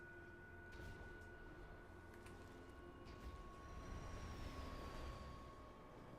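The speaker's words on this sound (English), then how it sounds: "That train's coming at me." A train approaches in the video game Destiny: a steady, low rumbling roar with a faint whine that swells gradually as it draws closer, heard alone without speech.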